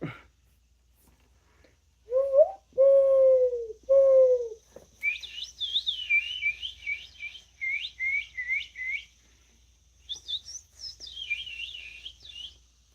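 A person imitates bird calls by voice, starting with a few drawn-out coo-like notes and then moving into rapid, high chirping and trilling phrases in separate bursts, close and clear with no other talk.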